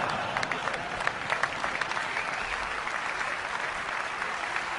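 Sustained audience applause fills a conference keynote hall, a dense, steady wash of many hands clapping at moderate loudness with no voices over it.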